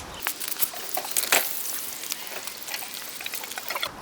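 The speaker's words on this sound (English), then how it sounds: "you can see the water coming right out" Water draining from a pool filter, splashing and trickling steadily, a broad hiss of running flow with scattered drips, continuous and fairly close.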